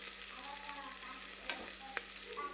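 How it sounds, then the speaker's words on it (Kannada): Onions fry in a pan for vegetable pulao with ginger-garlic paste, a quiet steady sizzle with a couple of faint clinks, heard from close but at low volume. "ಈರುಳ್ಳಿ ಫ್ರೈ ಆಗೈತೆ ನೋಡ್ರಿ."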